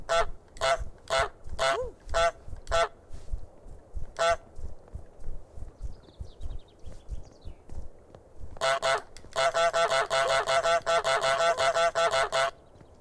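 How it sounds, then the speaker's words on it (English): Cartoonish goose honks from Untitled Goose Game, a video game, sounding as a run of sharp evenly spaced honks, a pause, then a dense rapid burst of loud honking close up. "Let's see what happens when I quack or honk."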